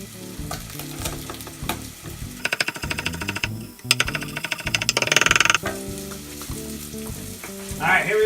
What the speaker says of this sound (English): Now that my onions and peppers are nice and golden, I'm gonna add my garbanzo beans.